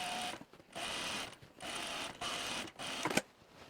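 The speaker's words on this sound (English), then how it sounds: "I'm going to sew on the facing next to the seam with the seam allowances" A sewing machine stitches a shirt facing along a seam, running in four steady buzzing bursts separated by short stops, close and alone with no talking.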